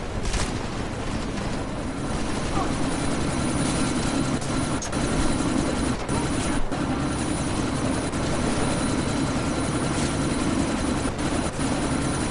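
A helicopter in Deus Ex Mankind Divided drones steadily and loudly with a rough rotor roar, held at even strength throughout and alone.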